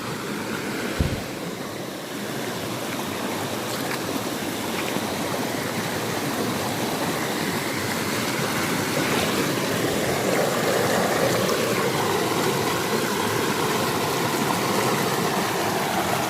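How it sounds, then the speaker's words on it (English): Fast-flowing river water rushes and churns steadily on a muddy riverbank foreshore while mudlarking, loud and close throughout with no voices. "it's probably quite loud for you now because the water is obviously quite fast here"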